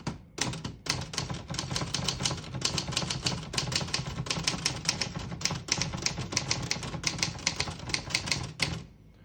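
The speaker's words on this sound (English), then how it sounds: "I'll type a sentence in red on the next line." Rapid keystrokes clack on a 1952 Olivetti Studio 44 portable typewriter printing in red ribbon, a near, dense run of sharp strikes for about eight seconds, then it stops.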